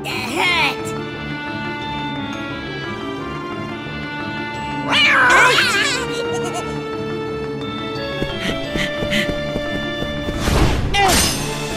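A cat meows inside the video game Kingdom Hearts Birth by Sleep, its short tonal calls rising over game music and effects, with a louder cry near the end while voices talk through the scene.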